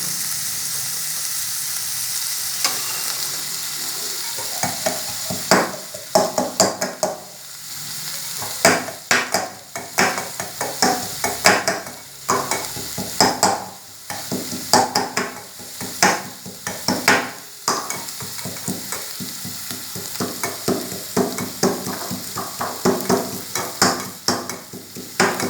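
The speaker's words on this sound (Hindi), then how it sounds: "तब तक हम अपना ये गार्लिक इसको थोड़ा सा भून लेंगे इसमें" Garlic sizzling in hot oil in a pan while being stirred for a vegetable frankie, a steady loud fry with repeated scraping and clinking of the spoon against the pan, no voices.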